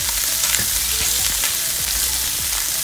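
Chopped lemongrass, shallots, garlic and chili stir-fry together in hot oil, a loud, dense, continuous sizzle with scraping stirs throughout, close up and without talk.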